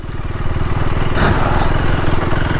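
KTM Duke 390 motorcycle ridden along a hill station road, its engine producing a loud, continuous rough drone with steady throbbing pulses and a brief surge partway through, close to the microphone.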